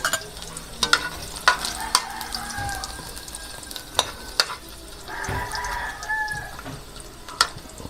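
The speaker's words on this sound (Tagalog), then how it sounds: "Lagay natin ang luya muna." Ginger frying in a pan for salmon head sinigang gives a soft sizzle under repeated sharp clinks and scrapes of a utensil against the pan, with a brief louder burst of sizzling partway through.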